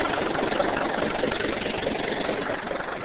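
A tractor engine idles steadily just after a cold start, a continuous rough mid-to-low rumble with even vibration, close by and with no one speaking.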